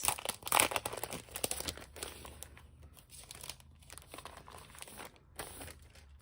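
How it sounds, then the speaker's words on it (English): A Foil Fusion foil sheet crinkles and rustles as it is picked up and handled close by, loudest at first and then settling into softer, intermittent crackles. "here's where I'm going to grab one of these Foil Fusion"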